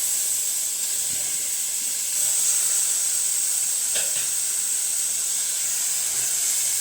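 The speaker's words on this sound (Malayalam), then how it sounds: "ഇനി നമുക്കിതിലേക്ക് ചിക്കൻ ചേർത്ത് കൊടുക്കാം. 1 കിലോ ചിക്കൻ ഇതിലേക്ക് ചേർത്ത് കൊടുക്കാം." About a kilo of chicken frying in a pan over a low flame gives a steady, close sizzling hiss, with a couple of faint clinks partway through.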